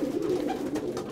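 Racing pigeons at a loft in Amsterdam coo steadily through a short stretch, a low continuous rolling murmur from several birds close by, with no talk.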